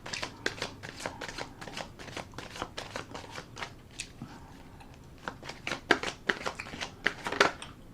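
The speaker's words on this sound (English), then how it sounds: "I will put another shuffle and rifle on the deck." Tarot cards shuffled and riffled in quick bursts of crisp, flapping clicks, close up, with a brief lull before a final run of sharper riffles.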